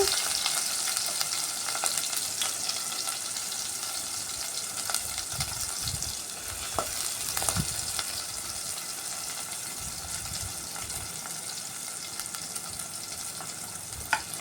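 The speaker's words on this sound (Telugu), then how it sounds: "ఉల్లిపాయ అయితే ఉల్లిపాయ వేసేస్తున్నాను ఆయిల్లో" Onion and green chilies fry in oil in a pan for a capsicum tomato curry, with a continuous close sizzle and occasional scraping and stirring knocks throughout, and no talking.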